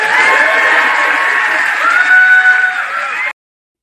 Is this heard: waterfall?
no